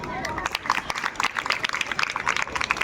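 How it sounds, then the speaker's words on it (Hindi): An audience claps for a student, Neha, being awarded a certificate at a youth village panchayat competition event, with a scattered, uneven patter of hands mixed with a murmur of voices. "हर किस्म की तालियां उसके लिए"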